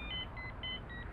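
A mobile phone rings from inside a backpack, giving short, repeating electronic beeps in a quick rhythm, faint and muffled over a low background rumble.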